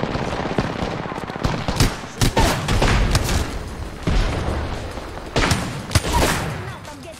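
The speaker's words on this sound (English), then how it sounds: "I'm going for those gunshots." Rapid bursts of gunfire crackle in a video game, with dense automatic volleys and scattered single shots, loud and close, punctuated by brief gaps.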